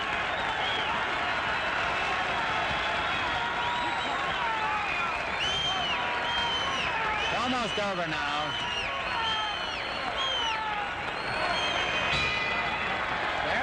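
Boxing crowd at the end of a 1963 middleweight fight between Rubin "Hurricane" Carter and Gomeo Brennan, a dense continuous roar of applause and cheering under a ringside announcer's talk, with a bell-like tone near the end.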